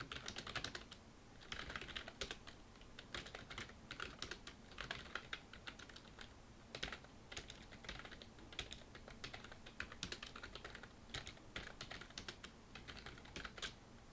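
Fingers type on a computer keyboard at a steady, rapid pace, with Enter and arrow-key presses mixed among the soft, close clicks in a quiet room without talk.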